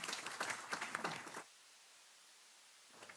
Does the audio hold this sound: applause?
yes